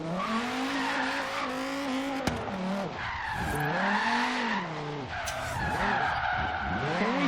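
A Dodge Viper drift build in the Forza Horizon 3 racing game slides through a drift zone, tires squealing loudly and continuously with a wavering, swooping pitch over a steady engine roar, with no talking.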